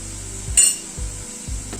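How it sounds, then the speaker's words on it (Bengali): Spices, stalks and potatoes being stir-fried in a pan, with a steady sizzle under sharp scraping strokes of a spatula against the pan roughly every half second. "মশলাটাকে একটু ডাঁটা ও আলুর সাথে কষিয়ে নেব।"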